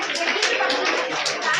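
An audience claps in a dense, continuous burst of many hands at a children's Bible school session, loud and close, with a voice speaking over the applause.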